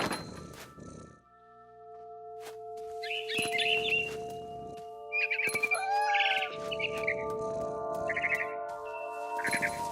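A barn swallow chirps near its nest in the video game What Remains of Edith Finch: brief, bright, scattered twitters under a steady low drone and occasional thumps.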